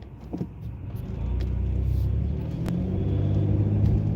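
Car driving over a bridge in light, moving traffic, a steady low road rumble and engine hum from inside the cabin that swells after a brief quieter start and stays even, with a few faint clicks.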